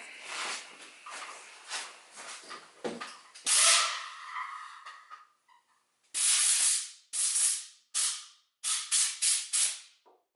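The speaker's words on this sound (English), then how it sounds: "The turbine we're just going to blow out with compressed air." Compressed air blasting through the turbine of a vacuum turbo brush, with irregular hissing bursts and rattling at first, then several loud, sharp, separate blasts of air, close up.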